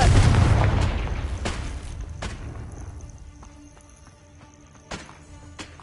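Confringo blasting spell going off in Hogwarts Legacy, one loud explosive burst at the start that decays into rumble, followed by a few fainter sharp pops.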